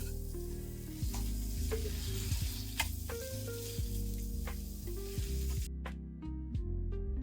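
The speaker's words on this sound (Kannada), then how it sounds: "ಬಟರ್ ಕರ್ಗಾದ್ಮೇಲೆ 5 ನಿಮಿಷ ಮುಂಚೆ ಉಪ್ಪು ಖಾರ ಹಾಕಿ ಇಟ್ಕೊಂಡಂತ ಪನ್ನೀರ್ನ ಹಾಕೊಂಡು ಫ್ರೈ ಮಾಡ್ಕೋಬೇಕು." Paneer pieces frying in melted butter in a pan, a continuous close sizzle with occasional stirring clicks, heard alone over soft background music.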